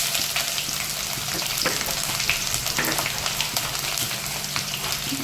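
Chopped ginger and garlic fry in hot oil with a continuous close sizzle, broken by faint pops and light stirring clicks.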